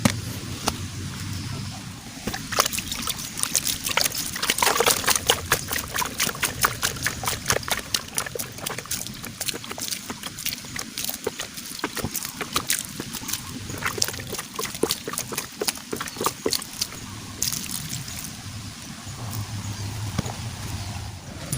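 Water poured over potted bonsai plants, a steady trickling and splashing dribble that runs close and fairly loud, rising and thinning in uneven pulses across the stretch with no talking.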